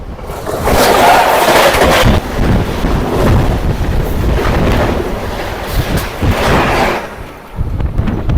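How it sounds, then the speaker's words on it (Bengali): A train rushes past at storm-like speed alongside a Kolkata–Bolpur local train, a loud, close, roaring rumble with wind buffeting that swells, holds for several seconds, then drops away near the end. "পাশ দিয়ে ট্রেনটা ঝড়ের গতিতে বেরিয়ে গেল"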